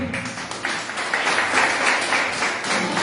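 A church congregation at a Portuguese-language worship service claps for Jesus, producing a dense, steady wash of hand claps at moderate loudness with no talking over it.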